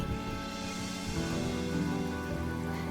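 Steady rain pours in a Honkai Star Rail game scene on the day of the Kakava festival, a dense continuous hiss of drops on surfaces with low rumbling beneath, heard alone without voices.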